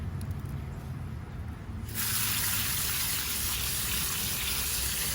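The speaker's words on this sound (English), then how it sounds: "I'm gonna rinse these off really good" Tumbled Mississippi River rocks rinsed off with water: a low background hiss gives way after about two seconds to a loud, steady gushing spray that runs continuously.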